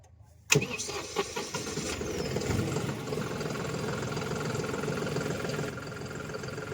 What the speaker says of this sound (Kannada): ಈಗ ಇದು ನ್ಯೂಟ್ರಲ್ ಒಳಗೆ ಇಟ್ಕೊಂಡು ಗಾಡಿ ಸ್ಟಾರ್ಟ್ ಮಾಡ್ಬೇಕು ಬರೀ ಸ್ಟಾರ್ಟ್ ಮಾಡೋಣ ಯಾವ ತರ ಸೌಂಡ್ ಕೇಳ್ರಿ ಇದು